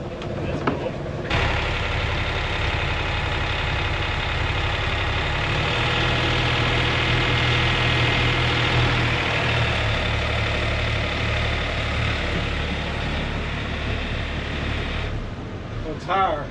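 Twin boat engines idle while warming up, a steady low mechanical drone that runs loud and continuous for most of the clip, with people talking over it.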